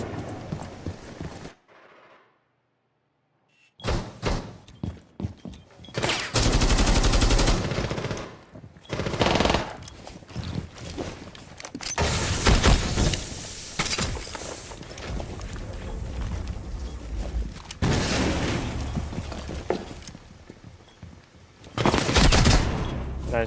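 Gunfire in a competitive video game: bursts of rapid automatic shots and single cracks come loud and close, broken by a short silence near the start and by clattering footstep-like mechanical noises between volleys.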